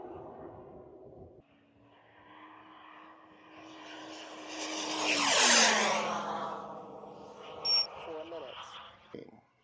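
A radio-controlled model airplane flies at night at full throttle, its propeller engine buzzing up in pitch and growing louder as it swoops past close by, then fading with a Doppler drop, with a voice talking briefly at the start.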